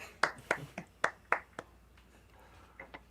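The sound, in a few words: remote audience clapping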